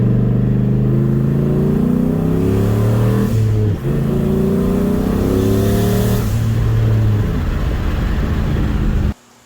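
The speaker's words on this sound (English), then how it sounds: "I think I made a small pull from second to third gear." A turbocharged Ford Mustang accelerating hard from second to third gear, its loud, close engine note climbing in pitch, dipping briefly at the shift, then rising again before cutting off abruptly.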